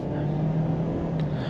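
A 2024 Ford Edge SEL with a 2.0L engine and AWD accelerates in sport mode, giving a steady, moderately loud cabin engine hum with a held tone for a brief moment.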